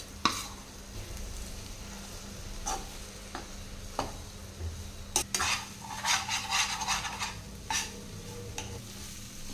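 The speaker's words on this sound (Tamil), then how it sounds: "ஒரு ரெண்டு நிமிஷம் நல்லா கலந்து விட்டு எடுத்துக்கலாங்க" A cowpea cutlet mixture is stirred in a frying pan, with a spoon scraping and clinking in short irregular strokes over a soft, steady sizzle. No one speaks.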